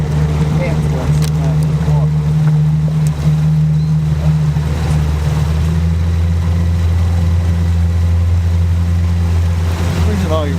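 A boat engine drones steadily and loudly while the boat moves through water, with splashing and lapping around it and people talking under the engine noise.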